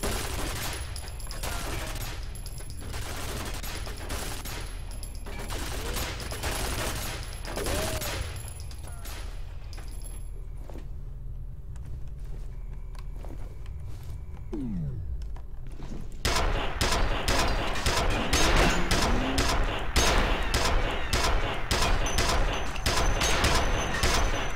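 Rapid bursts of gunfire at glass in the shooter game F.E.A.R., loud sharp shots in repeated strings, a quieter gap midway, then dense close firing resuming.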